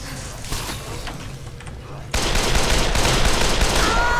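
Rapid automatic gunfire in the Dead Island video game, a sustained dense rattle of shots that starts lightly and then swells into a loud continuous burst over ambient game noise.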